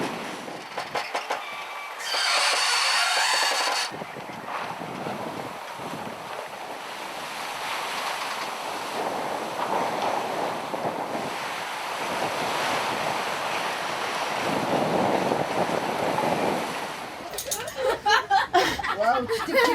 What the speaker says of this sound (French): tu t'es pris quoi, une déferlante dans la gueule là?